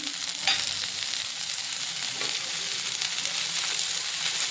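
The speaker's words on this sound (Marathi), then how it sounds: "अजून हिरवी मिरची टमाटर वगैरे भाजून घेणार आहोत आता त्यामध्ये थोडेसे लसूण आणि आलं हिरवी मिरची" Green chilies, tomatoes, garlic and ginger fry in a pan for matar paneer, giving a continuous bright sizzle with light stirring, close and unbroken, no voices.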